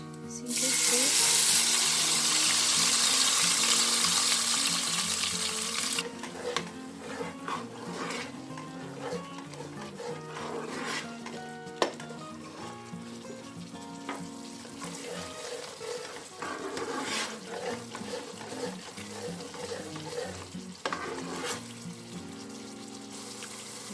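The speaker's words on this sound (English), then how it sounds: "I'm going to put 1 teaspoon of jeera. Let it splutter nicely" Cumin seeds spluttering in hot oil, a loud bright hiss at first that settles into crackling and scattered pops, with occasional stirring clinks and faint background voice.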